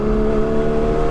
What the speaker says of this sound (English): I just like instantly heard the exhaust